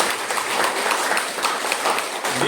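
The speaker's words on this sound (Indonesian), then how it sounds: "Tepuk tangan juga untuk mereka." A church congregation applauding the organising committee during Sunday Mass, a dense, even patter of many hands clapping, fairly loud and sustained with no talk over it.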